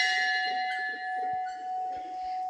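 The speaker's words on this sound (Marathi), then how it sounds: "ते आपण घंटी वाजवूया." A temple bell rung at the entrance of the Shree Kalambadevi temple in Wargaon, Kankavli, giving a single struck tone that rings on loud and steady with a long sustained hum, alone with no talk.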